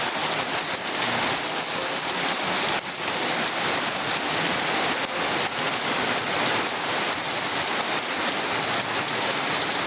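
Heavy rain pours steadily on a village yard in Gobindapur, Feni district, a dense, loud, unbroken hiss close by with no talk.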